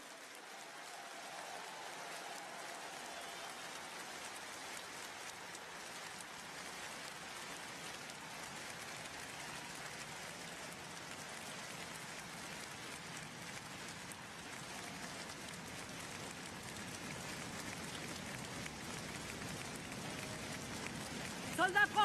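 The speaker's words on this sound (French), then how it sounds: "Vous pouvez les applaudir." A large political rally crowd in Lille applauds French soldiers of Operation Barkhane: a steady, dense wash of clapping that holds for over twenty seconds at moderate level, swelling slightly toward the end, with some voices mixed in.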